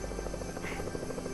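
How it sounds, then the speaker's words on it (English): A helicopter in the Fortnite video game, a steady droning buzz with a rhythmic rotor thump, loud and continuous throughout. "Let's hope this chopper comes here."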